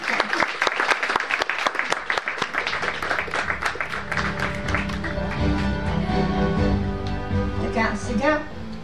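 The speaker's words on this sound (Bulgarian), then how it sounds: "Силни аплодисменти за Флорина Иванова." An awards ceremony audience in Bulgaria breaks into loud applause, dense clapping at first that thins out, with music rising underneath toward the end.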